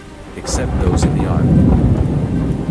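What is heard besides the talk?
heavy rain and thunderstorm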